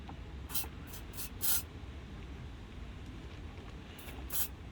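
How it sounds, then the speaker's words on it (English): Several short hissing bursts of aerosol grease spray during a Yamaha Tricity CVT belt change, a few quick puffs followed by a pause and two more, close by over a low background rumble. "spray a bit of grease onto there."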